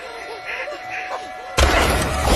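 A flare gun fires aboard a boat in a survival thriller: after quiet, tense ambience, a sudden loud broadband blast erupts and carries on as a sustained, roaring hiss to the end.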